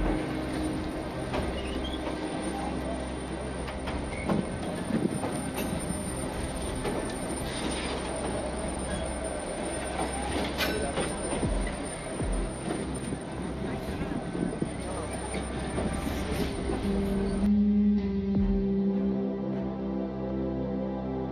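A train rumbles steadily across a railway viaduct with rolling wheel noise and faint metallic squeals, a constant heavy roar that thins out near the end.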